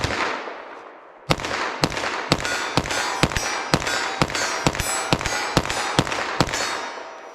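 Rapid 9mm pistol gunshots fired with Sinterfire Special Duty ammunition, about thirteen loud, sharp cracks at a fairly even pace of roughly two per second, each ringing briefly outdoors.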